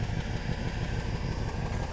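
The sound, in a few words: Mercedes W126 560SEL engine idling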